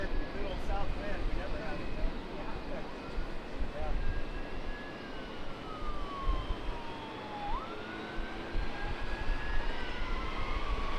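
Jet airliner engines roar continuously at San Diego airport as a JetBlue flight is cleared for takeoff on runway 27. A broad, steady rumble fills the whole stretch while radio voices talk over it.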